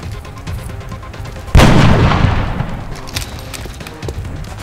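A single heavy gunshot blast in XCOM Enemy Within fires loud and close, its boom decaying over a couple of seconds with a faint rumble behind.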